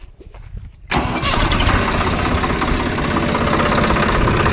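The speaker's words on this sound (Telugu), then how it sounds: "స్టార్ట్ అయింది బండి." Tractor engine cranking and catching after a short quiet lead-in, then running loud and close in a steady rough diesel idle.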